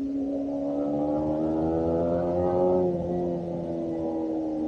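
Yamaha MT-15 motorcycle engine idling with a steady, low droning tone, rising slightly near the end before settling back, close and alone with no talk.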